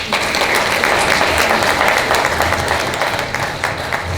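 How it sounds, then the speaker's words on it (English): Sustained applause from a municipal debate audience fills the room, a dense, loud wash of clapping with no voices over it. "can we give them a round of applause for that?"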